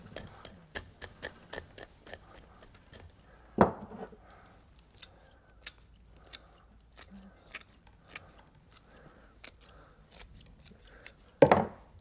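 Scissors snip a maple bonsai during pruning in a greenhouse, a run of light, sharp clicks spaced irregularly, with a couple of louder cuts standing out. The snips sound close and fairly quiet.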